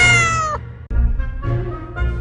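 A cat meows loudly and close up in two or three drawn-out, wavering calls separated by a short pause, with no other voices.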